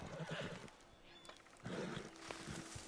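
A horse in a video game whinnies loudly twice, with faint hoofbeats and soft game ambience between the calls.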